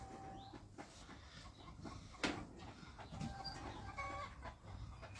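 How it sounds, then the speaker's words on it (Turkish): Sheep on a small farm bleat intermittently at a moderate distance over faint outdoor background noise, with a few sharper cries standing out. "Bu da bizim koyunlarımız."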